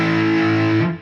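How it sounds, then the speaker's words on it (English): Electric guitar into a Boss Katana amp with boost fully up, giving a retro distortion; one loud sustained chord rings for about a second, then is choked off, with no voices. "So this is boost all the way up."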